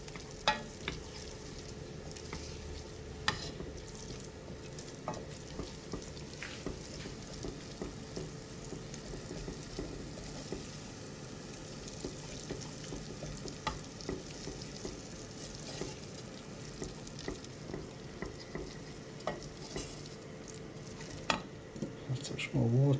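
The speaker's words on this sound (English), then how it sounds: "Stir that in again." Tomato puree being stirred into a sausage casserole frying in a pan, with a steady soft sizzle throughout and occasional clinks of a spoon against the pan, close by and fairly quiet.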